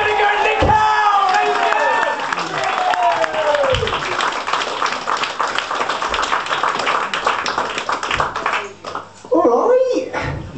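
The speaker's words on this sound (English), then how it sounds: "Let's get some cheering." A stand-up comedy audience in a pub venue cheers and claps, a sustained crowd roar of whoops and applause with scattered sharp claps, loud throughout, while a voice calls out over the start.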